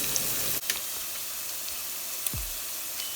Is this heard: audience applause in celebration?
no